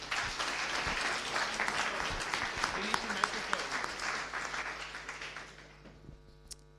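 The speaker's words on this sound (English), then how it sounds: "Give him a warm round of applause." Warm applause from a conference audience at a tech talk, a dense steady patter of many hands that fades out toward the end, leaving a low hum.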